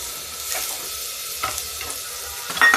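Masoor and moong dal tipped into a hot pan and stirred, a steady soft sizzle with scraping stirs and a brief louder rattle near the end, no talking.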